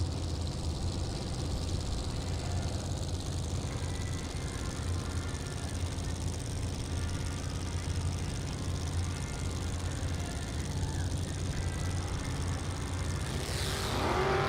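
At a drag strip, a Camaro and a Pinto idle and launch, their engines a steady low rumble that swells to a louder roar near the end, heard from some distance with no talk over it.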